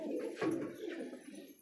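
Pigeons coo close by in a quick, throaty, rolling burst, faint and over in under two seconds.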